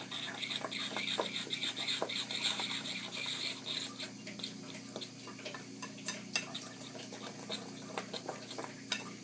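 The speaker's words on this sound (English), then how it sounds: "We mix them all together." Corn muffin batter stirred in a bowl, a faint rhythmic scraping and ticking of the spoon repeating steadily throughout, quiet and close.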